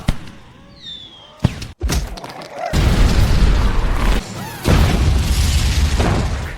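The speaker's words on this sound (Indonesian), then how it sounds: "semut merah lari berhamburan karena terkena ledakan petasan" Heavy booming blasts from rocket firecrackers with a rumbling, roaring wash of noise afterward, preceded by a whistling whoosh like a rocket launching.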